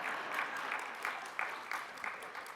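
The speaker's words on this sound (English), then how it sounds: "you can clap for yourselves" An audience at a talk about leaders and movements applauds itself, a steady, fairly quiet wash of clapping with no voices over it.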